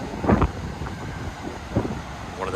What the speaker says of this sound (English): when I go out from behind this rock, it will be very windy